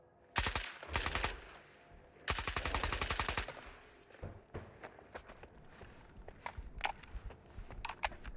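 Gunfire in S.T.A.L.K.E.R. 2 comes as two fast, dense bursts of sharp cracks, followed by scattered single shots and clicks. The shots are fairly close against a quiet background.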